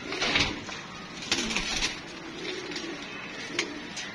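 Domestic pigeons cooing close by in a keeper's loft, several soft rolling coos rising and falling over a few seconds, with a faint rustle in the background and no talking.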